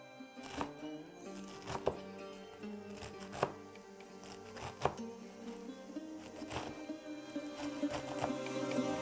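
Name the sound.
knife finely chopping bunches of spinach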